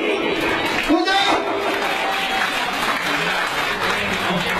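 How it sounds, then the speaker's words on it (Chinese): Applause from an audience at a Lunar New Year alumni gathering of Fuzhou Tingjiang Middle School: a dense, steady wash of clapping lasting several seconds, with voices audible underneath. "鼓掌。"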